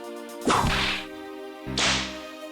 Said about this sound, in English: By slapping you with a whip.